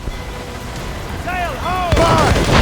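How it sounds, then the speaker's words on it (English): Naval battle in Assassin's Creed Rogue, with ship cannons and incoming mortar fire: a whistling shell descends, then loud booming blasts and rumbling impacts close by, with voices shouting over the action. "Man the cannons! Mortars incoming, Shay!"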